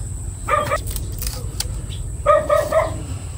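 A dog barks twice in the open countryside of a rice-farming area, two short bursts of barking a couple of seconds apart over a steady background hum.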